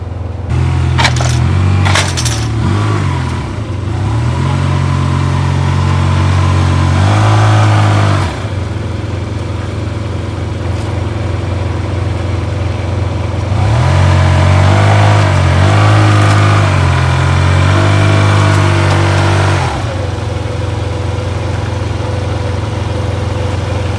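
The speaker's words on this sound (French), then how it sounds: "va remonter son scooter. Voilà. Par la rampe." A small scooter engine revs up and down in loud surges as it rides up a ramp, with rattling clatter at the start and no talking.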